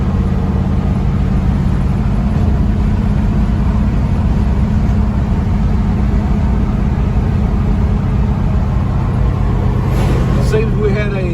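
A Mercury Cougar cruises down the road after an intermittent spark problem was fixed: a steady, loud, low engine drone and road rumble from inside the car.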